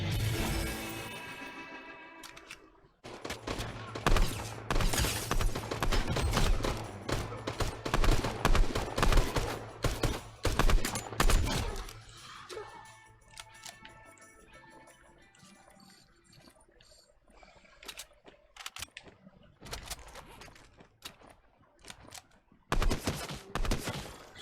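Rapid bursts of gunfire from a free-to-play Nintendo Switch video game crackle loudly in dense volleys, then thin out into scattered shots after a quieter stretch, with no talk over them.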